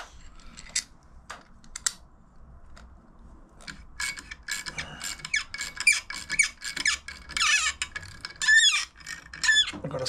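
Squeaky, ratcheting metal-on-metal working noise from shaping a hole in a part for an abused dirt bike in a workshop, coming as scattered clicks early and then dense repeated squeals and scrapes, close and fairly loud, with no talk.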